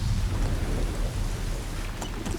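Heavy rain pours steadily with deep rolling thunder rumbling loudly throughout, a dense storm wash close by with no voices.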